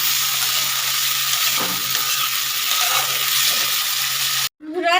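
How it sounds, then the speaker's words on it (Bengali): Steady broadband sizzle of vegetables frying in oil, loud and close, with faint scraping stirs; it cuts out briefly near the end before a voice starts. "তেলটা আমি দিয়ে আবার ভেজে নেবো একটু ভালো করে"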